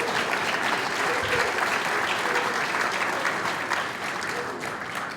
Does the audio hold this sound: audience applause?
yes